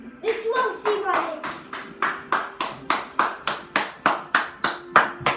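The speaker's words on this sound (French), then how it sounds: "Vous allez m'applaudir au moins." A small group clapping hands in a steady, even rhythm at close range, about a dozen crisp claps, with a voice heard briefly at the start.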